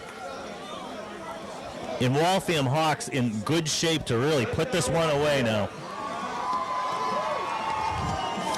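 A high school football crowd at the Brockton vs Waltham Thanksgiving game roars and cheers after a big run. The steady crowd noise sits under a commentator's talk, then swells into a broad, louder roar once the talking stops.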